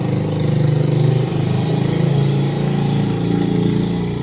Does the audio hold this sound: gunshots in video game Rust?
no